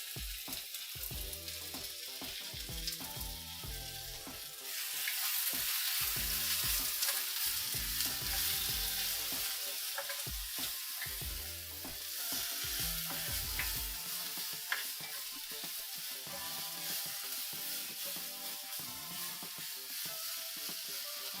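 Vegetables, including parsnip, sweat and sizzle in a pan for soup, a steady close frying hiss with stirring clatter and scrapes throughout, swelling louder after the first few seconds, no voices.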